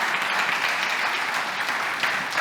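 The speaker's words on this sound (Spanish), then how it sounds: "¿Cuántos damos un fuerte aplauso, Señor, por ello?" Congregation at a church sermon giving a strong round of applause, dense continuous clapping from a crowd that holds steady throughout.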